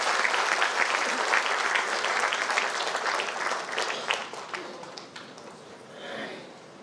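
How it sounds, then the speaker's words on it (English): A graduation ceremony crowd at Informatics College Pokhara breaks into sustained applause, a dense wash of many hands clapping that gradually thins and fades over several seconds. "let's put a huge round of applause for Ms. Binu Kumari Gurung"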